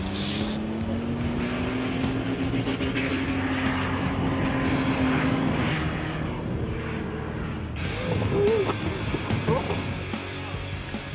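A V6 Toyota Hilux engine roars and strains as it climbs a steep sand dune, rising in pitch then easing off near the crest, with a commentator talking over it.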